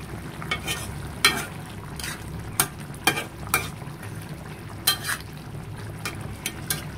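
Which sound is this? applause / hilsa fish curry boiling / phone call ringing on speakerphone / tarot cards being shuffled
hilsa fish curry boiling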